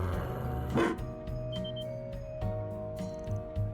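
A robot guardian beast barks in Trails Through Daybreak, giving one sharp bark followed by softer yips over game music.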